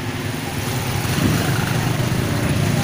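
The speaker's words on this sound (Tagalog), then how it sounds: "Nakasakay kami sa motor cab." A motor cab tricycle engine drones steadily while riding, a rough continuous rumble with road and wind noise, loud and close with no talk.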